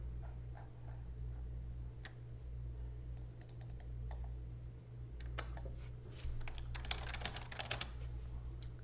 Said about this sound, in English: That's why you hear typing again